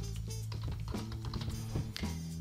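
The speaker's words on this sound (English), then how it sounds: "So if I wanted to, I could type in a web address here" Web address typed on a computer keyboard, a quick run of light, close key clicks in uneven bursts with no talking.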